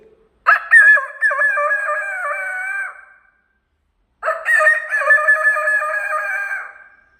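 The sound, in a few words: child imitating a rooster crowing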